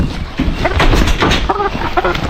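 A caged chicken clucks in a few short, close bursts over a steady low background, with harmonic calls standing out toward the end.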